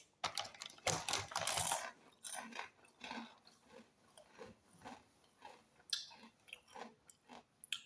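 Crunchy bites and chewing of hot, spicy red-powdered chips, loud close-up crunches at first settling into softer, irregular chewing with no talk.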